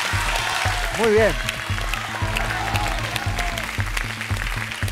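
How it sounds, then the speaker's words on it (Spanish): Studio audience applause on a television talk show, a steady clapping wash under music and a brief spoken voice. "Merece un aplauso."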